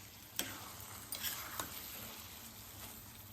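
Sheera being stirred with ghee in a pan, soft scraping strokes with a few distinct clicks of the spoon against the pan over a faint steady sizzle, close and quiet.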